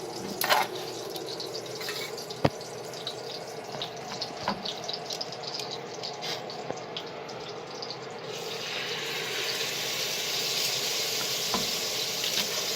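Moose striploin sears in a hot pan with a steady, close sizzle and crackle that grows a little louder and hissier toward the end, broken by a few sharp pops and clicks.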